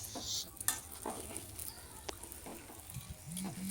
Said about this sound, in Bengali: তো এটা এখন একটু নাড়াচাড়া করে নিই, কারণ ঘি তো গলেই যাবে